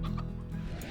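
A chicken in the Slime Rancher video game clucks nearby in a quick series of short, throaty bursts, loud and close, with no speech over it.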